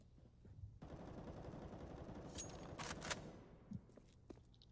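Rapid automatic rifle fire as a full magazine is sprayed down a hallway in Counter-Strike on the Mirage map, a sustained burst of gunshots lasting a few seconds, faint and without commentary over it.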